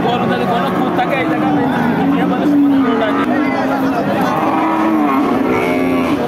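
Cattle at a livestock market, including large Jersey, Sahiwal and local cows, with a drawn-out low moo heard close among steady crowd chatter and someone talking throughout.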